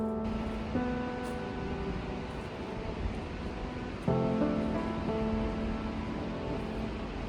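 A waterfall in North Queensland, Australia, heard from its base: a steady, broad rushing of falling water that fills the whole stretch, with faint tonal hum threaded through and no voices.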